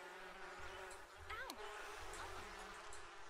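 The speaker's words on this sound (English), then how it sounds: "I got attacked by bees." Bees in The Sims 4 buzz through a jungle adventure scene, a steady insect drone with wavering tones, heard under game ambience and a voice at moderate level.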